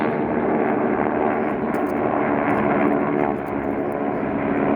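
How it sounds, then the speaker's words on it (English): Airplane engines circle overhead in a 1938 War of the Worlds radio drama sound effect, a loud, steady, dense droning roar that fills the whole stretch without a break. "Planes circling, ready to strike."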